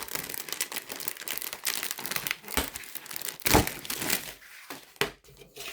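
Plastic packet of a diamond painting kit being torn open by hand, giving steady, close crinkling and crushing with a few sharper cracks near the end.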